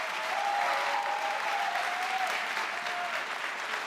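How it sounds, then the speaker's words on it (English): Steady crowd applause for panel speakers closing a political debate evening, a continuous even patter of many hands at moderate level, with a faint tone running underneath. "One final round of applause for our speakers."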